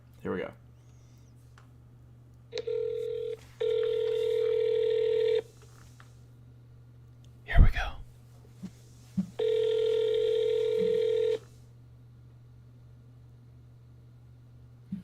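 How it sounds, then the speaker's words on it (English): A telephone call rings out through a handset: two long repeated ringback tones, each about two seconds, separated by a pause and a brief clunk of handling, with a faint hum underneath. "I am dialing. I'm getting them on the phone."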